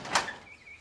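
A truck door on a 1966 Chevy C-10 swings open with a short, sharp latch click and creak, followed by a faint squeak that trails off into quiet.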